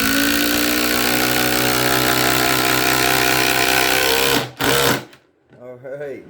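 A Ryobi impact driver runs steadily, driving a 3.5 inch screw into treated lumber, a loud continuous whirring hammer that stops abruptly near the end, followed by brief talk.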